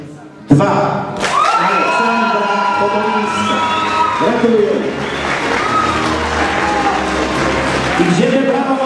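Audience at a 2013 teen beauty pageant result announcement breaks into loud cheering, whooping and clapping after a sharp thump, a close, sustained crowd roar with voices shouting over it throughout.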